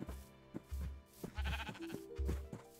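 Sheep bleat repeatedly in the Minecraft video game, several short nasal calls spread across a few seconds over a soft low background.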